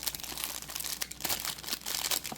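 Crinkly foil wrappers of Panini Mosaic NBA basketball trading card packs rustle and crackle steadily as the packs are shuffled together by hand, close and continuous, with no talking.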